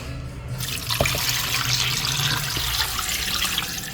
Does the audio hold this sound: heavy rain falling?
no